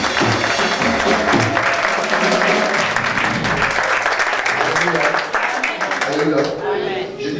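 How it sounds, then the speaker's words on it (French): A church congregation applauds and cheers loudly in praise of God, a dense, continuous wall of clapping mixed with shouts and a voice speaking over it, fading slightly toward the end. "Tu vois, ça acclame Dieu."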